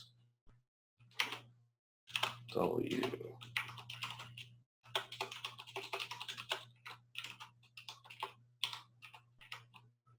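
Typing on a computer keyboard during a software training session, a quiet close run of rapid key clicks, with a person talking over much of it.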